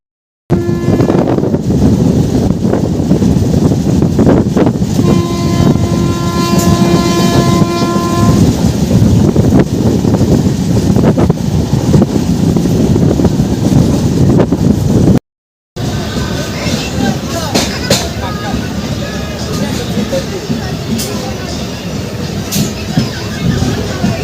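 The Tamralipta Express on the Digha to Howrah run roars along the rails with a steady loud rumble and clatter, and a long sustained horn blast sounds partway through. After a brief cut, the running noise carries on.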